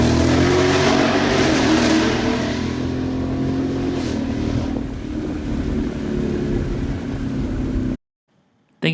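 A 2019 Ford Mustang GT V8 exhaust revving loudly and close, a steady deep engine roar with rising and falling revs, then cutting off abruptly into near silence.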